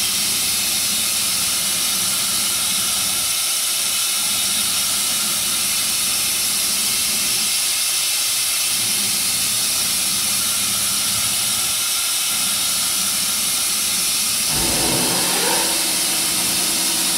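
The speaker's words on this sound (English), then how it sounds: "My compressor kicking in there." An air compressor in a machine shop, next to a spindle machine, runs as a steady loud broadband hiss and rumble for most of the stretch. Its tone changes near the end.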